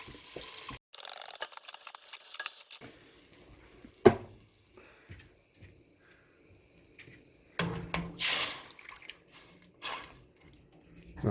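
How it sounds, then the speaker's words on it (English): Liquid poured into a pot of charred onions while making beans, then scrubbed against the pot's side, giving wet splashes, drips and scraping bursts at close range with no talk. "I'm just going to pour that right in there and squirt it over on these areas where the onions have kind of charred to the side of the pot."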